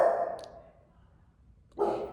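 A dog barks in two harsh bursts, one at the start and another near the end, with a quiet gap between them and no talking.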